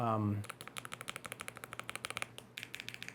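Typing on a Lofree Flow Lite mechanical keyboard, a steady stream of quick clacking keystrokes close to the mic following a brief moment of a voice at the start.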